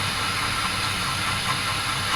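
A lathe runs slowly at 180 RPM during air ride modification work for a Skoda, giving a steady, continuous hiss and low motor hum with no pauses or talk.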